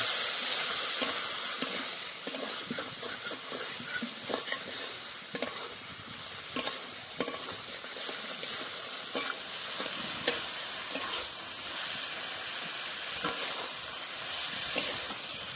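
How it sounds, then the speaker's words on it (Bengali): Shrimp and spices stir-fry in a pan, giving a loud, continuous sizzle with frequent scraping strokes of a spatula at an irregular rhythm, with no voices. "বন্ধুরা চিংড়ি মাছটা দিয়ে বেশ কিছুক্ষণ কষে নিয়েছি"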